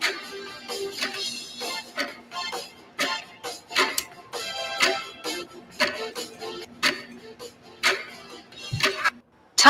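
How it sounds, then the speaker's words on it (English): Rapid, irregular ticking clicks fill the clip over a faint steady hum, close and moderately loud, with no speech, fitting a clock ticking as time runs out. "Tick tock, tick tock. The clock is ticking."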